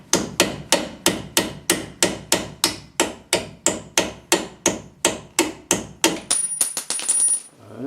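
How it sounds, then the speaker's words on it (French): Sledgehammer blows ring out while a driveshaft is being removed from a Renault Express: about seventeen loud, evenly spaced metallic strikes, close up, then a few quicker lighter taps and a brief rattle at the end. "Je vais prendre la masse, parce que j'ai pris la masse tout à l'heure."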